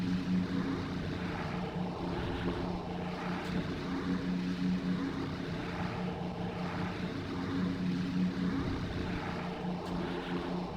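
Droning multi-engine propeller noise of a B-24 Liberator bomber in flight in a flight simulator game mod, a steady, dense, continuous hum and roar filling the whole stretch without speech.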